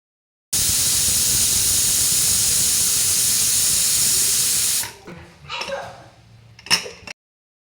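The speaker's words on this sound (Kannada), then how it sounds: "ಲಿಡ್ ಕ್ಲೋಸ್ ಮಾಡಿ ಹೈ ಫ್ಲೇಮಲ್ಲಿ 2 ವಿಷಲ್ ಹಾಕಿಸ್ಕೊತೀನಿ" A pressure cooker of flat beans on high flame lets out a loud, steady hiss of steam for about four seconds, then cuts off, leaving quieter kitchen clatter and a few faint knocks.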